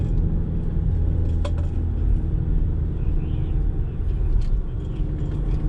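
Steady rumble of a Honda NC750X motorcycle cruising on an open road in Southwest Virginia, engine drone mixed with wind noise throughout, no voices.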